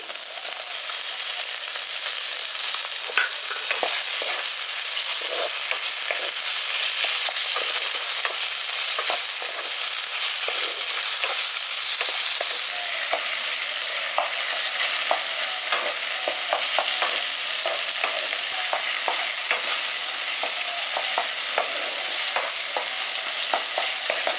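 Chopped tomato stirred and frying in a pan for a village-style dahi pabda fish curry: steady, loud hissing sizzle throughout, with frequent scraping and clicking stirring strokes layered over it, no voices.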